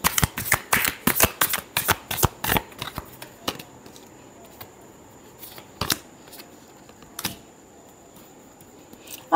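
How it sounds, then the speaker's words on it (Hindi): Tarot cards are shuffled up close in a quick burst of crisp riffling flicks, then slow to a few isolated card snaps and taps against a quiet background. "Last shuffle."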